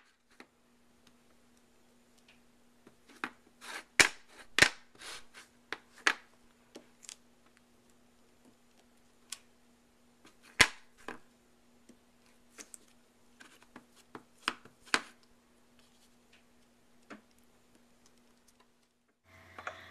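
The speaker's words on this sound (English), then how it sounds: "So now I just ink it up really well and start stamping randomly onto my paper." A rubber stamp is inked and pressed onto paper, making sharp dry taps and clicks in irregular clusters, some close together and some spaced apart, over a faint steady hum.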